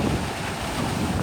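Large ocean waves break on a beach by a hill in Ulsan, Korea, as a continuous rushing wash of surf mixed with gusty wind buffeting the microphone.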